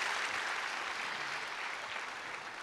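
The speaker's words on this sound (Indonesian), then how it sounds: "Beri tepuk tangan yang meriah buat Tuhan." At an online church service, a congregation claps: dense, even applause sustained without pause, heard faintly at a low level.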